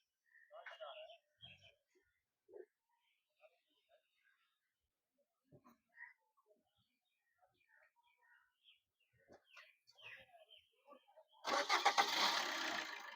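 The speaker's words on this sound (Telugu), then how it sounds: "సార్ మీకు ఇంజన్ స్టార్ట్ చేసి చూపిస్తాను" Long stretch of near silence with faint, scattered murmurs, then the diesel engine of a 2018 Maruti Brezza VDi cranks and roars to life loudly at the very end.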